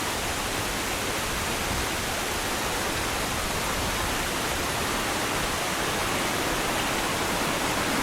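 A river roars steadily and close by at a footpath crossing, a dense, unbroken broadband wash with no voices or other sounds.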